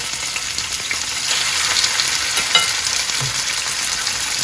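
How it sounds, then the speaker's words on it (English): Olive oil sizzles and crackles steadily in a hot pan on a stovetop, a close, continuous frying hiss with no voices. "we're at the stove and I've heated my oil, olive oil"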